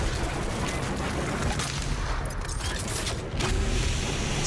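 Explosions and heavy gunfire from the first-person shooter video game Doom Eternal, a dense, continuous roar of blasts and booming impacts filling the whole clip at steady, loud level.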